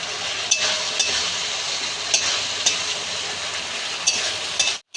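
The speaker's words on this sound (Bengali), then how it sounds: "ভালো করে কষাতে হবে।" Masala for katla fish curry sautés in a pan. A steady bright sizzle runs throughout, broken by regular light clinks of a spoon against the pan every half second or so, close and fairly loud, with no talking.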